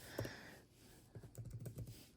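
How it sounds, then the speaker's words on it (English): Fingers tap out a passcode on the keys of an iPad Pro keyboard, a quick run of soft close clicks after a pause in a quiet room. "And these key switches, just typing on them feels very nice"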